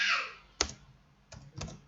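Computer keyboard typing while coding a React Native app, three quick, faint keystrokes spaced out over under two seconds, close and quiet, no talk.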